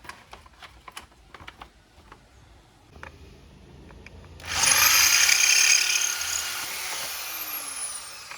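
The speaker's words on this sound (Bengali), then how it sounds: "এবার এই ড্রিল মেশিন দিয়ে আমি রিবেটে প্রপারলি চালাবো।" A drill bores along a rivet on a Royal Enfield Meteor 350 motorcycle during a tail tidy installation: scattered taps and clicks, then a loud, steady high-pitched whine for several seconds that dips slightly in pitch before fading.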